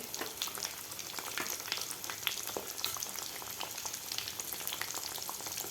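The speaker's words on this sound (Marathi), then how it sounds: "आपल्याला थोडासा असा ब्राऊन कलर होईपर्यंत हे तळून घ्यायचे आहेत." Small cauliflower and potato samosas deep frying in oil, a steady, quiet crackling sizzle with dense fine pops throughout and no voices.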